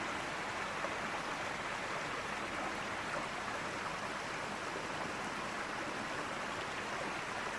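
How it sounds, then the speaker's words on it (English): A small backyard brook runs steadily through a lawn-edged property in very early spring, giving a constant, even rush of flowing water with no voices. "the smaller brook that runs through our backyard, through our property"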